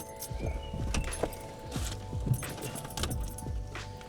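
A car key jangles and clicks as it is turned in the ignition, with rattling metallic taps and thumps nearby and no talking.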